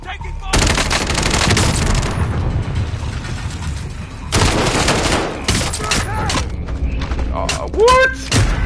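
Automatic gunfire rattles in Call of Duty: Warzone on PS5, loud sustained bursts of rapid shots with a gap between volleys, followed by mechanical clanks and whooshing game effects, while someone talks over it.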